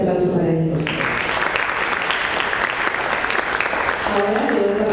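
An audience at a citizen debate contest final breaks into a dense, sustained round of applause that fills most of the moment. A speaking voice can be heard just before it and again as it ends.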